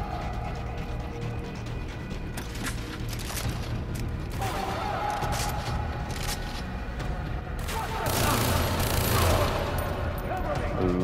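Sustained machine gun fire in Far Cry 3, rapid dense rattling bursts over steady background rumble, intensifying into a louder volley near the end.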